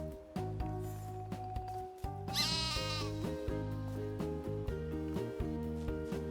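Sheep bleating in a video game, several wavering bleats over a looping tonal game soundtrack, fairly clear and close, no talk.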